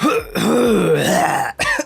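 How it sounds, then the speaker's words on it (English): A single rough cough from a sick man that catches into a harsh throat-clearing rasp, close to the microphone, with a brief second burst right after. "sorry for all the coughing"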